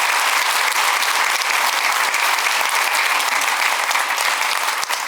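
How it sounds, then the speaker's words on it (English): Steady, loud applause from a large luncheon audience, continuous clapping filling the whole stretch without pause. "how about a round of applause for our president?"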